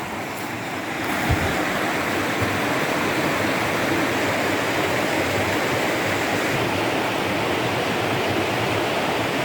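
The Whitewater River on the Foothills Trail rushes as a loud, steady wash of broadband water noise, continuous and close, with a brief thump near the start.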